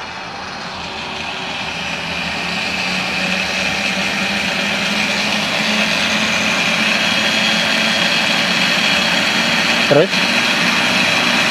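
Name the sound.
SRM electric motor revving at full throttle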